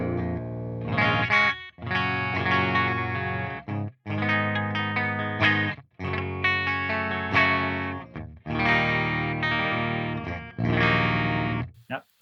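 An electric guitar played through the clean channel of the Audio Assault Hellbeast amp simulator rings out in a series of sustained chords, about six phrases separated by brief breaks.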